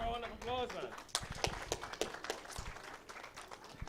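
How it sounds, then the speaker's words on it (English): An audience at an interfaith Eid feast breaks into applause after a voice briefly speaks over it, scattered claps rising into uneven clapping that continues at moderate loudness. "Give her a round of applause, man."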